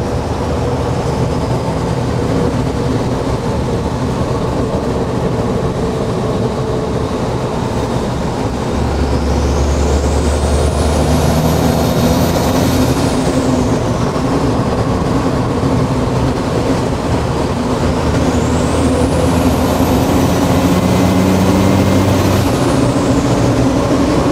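A turbocharged 12-valve Cummins diesel pulls a 1969 Ford F250 crew cab through the gears, a loud, constant drone heard from inside, with the turbo's whistle rising and falling twice.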